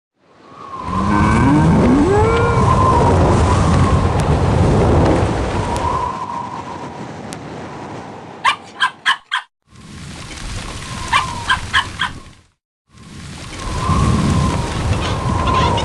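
A tornado storm in a 2000 Oz interactive storybook PC game: roaring wind and rain surge in loud bursts, broken by short silences and quick rattling clatters, building and fading across the stretch.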